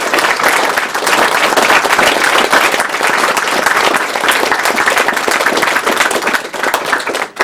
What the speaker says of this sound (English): So he also deserves a big round of applause.